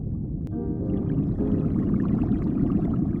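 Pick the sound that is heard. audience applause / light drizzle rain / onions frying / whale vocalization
whale vocalization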